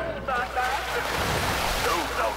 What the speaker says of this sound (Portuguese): Isso é muito legal, o efeito da água